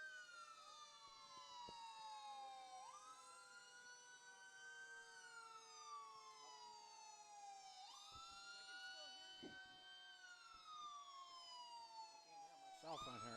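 A wailing siren from North Lake Fire Department engine 252 sweeps up and down repeatedly in a Fourth of July parade in Chautauqua County, loud and close, with a deep horn blast at the very end and faint crowd noise beneath.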